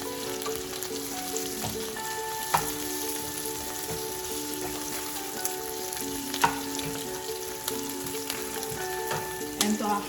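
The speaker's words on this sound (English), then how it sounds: "We have to roast it properly, so then we can get the aroma into the lentils." Yellow lentils dry-roasting in a pan over a high flame, giving a steady, close crackling sizzle with a few brief scrapes of stirring throughout.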